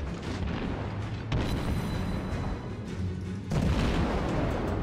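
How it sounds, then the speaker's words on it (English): Warship guns rumble in World of Warships, with deep booming blasts and a continuous low roar of naval artillery that swells and fades in waves. "Although he's now shooting at me."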